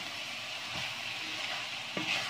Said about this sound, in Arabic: ونخليهم كيتشحروا مزيان